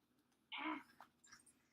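A house cat gives one short, fairly quiet meow, followed by a couple of faint small chirps in a quiet indoor room; no one talks.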